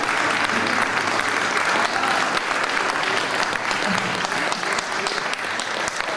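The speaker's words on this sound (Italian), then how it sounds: "un applauso più grande" A crowd at the Giro d'Acqua 2019 drumming event gives loud, dense, sustained applause. Many hands clap steadily for the full stretch with no break.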